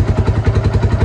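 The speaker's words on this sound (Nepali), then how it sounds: "बाइकको आवाज आउँदा कस्तो मजा आउने क्या भित्रैबाट" Motorcycle engine idling close by, a steady low thumping pulse with rhythmic throbs and light mechanical clatter throughout, no voices.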